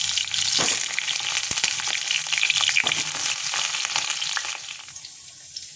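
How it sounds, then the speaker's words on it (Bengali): Pointed gourd and potato pieces fry in hot oil in a wok, a loud continuous crackling sizzle with occasional stirring scrapes, easing slightly toward the end. "এইবার পটলগুলো ভেজে নেব পটল আলু এগুলো ভেজে নেব"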